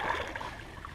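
A kayak paddle pulls a reverse stroke through the water, producing a steady, close-up swishing and gurgling splash across the whole moment with no voices.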